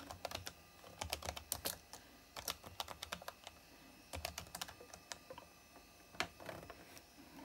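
Keys clack in quick, uneven bursts on the keyboard of a Toshiba T2100CT 486DX2 laptop, close and alone in a quiet room, with short pauses between runs of typing.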